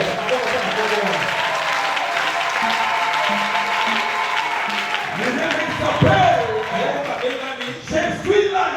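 A church congregation breaks into applause during a French-language sermon, a dense sustained clapping under a pastor's voice that keeps speaking, with swelling cheers toward the end.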